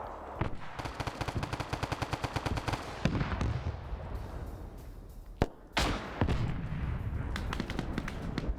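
Dense video game battle gunfire between US and USSR forces, with rapid machine-gun bursts, heavy anti-tank blasts and explosions, loud and continuous with a few sharp louder impacts.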